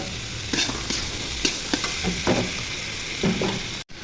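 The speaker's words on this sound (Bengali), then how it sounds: "নেড়ে চেড়ে বটবটিগুলো দিয়ে দিব" Yardlong beans stirred in a hot pan with fried onion and turmeric, a steady sizzle of frying under repeated scraping strokes of a spatula, close and fairly loud.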